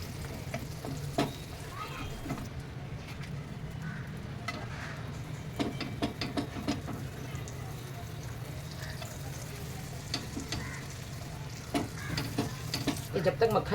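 Split pav rolls sizzling in melted butter on a hot street-style griddle, a steady close frying crackle with scraping stir sounds and occasional clinks throughout.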